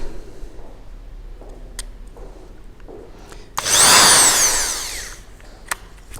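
A power drill-driver in a wood shop whirs loudly in one burst of about a second and a half, amid scattered faint clicks and handling sounds before and after.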